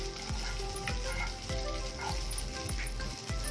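Poppy seeds roasting in hot ghee in a pan, a soft continuous sizzle with rhythmic scraping or stirring strokes repeating about every half second.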